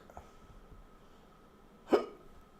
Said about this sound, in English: Why have I got hiccups all of a sudden?